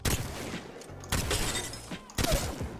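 Three loud bolt-action rifle shots in the video game Apex Legends, each a sharp blast with a decaying tail, spaced about a second apart, with faint mechanical clicks between them.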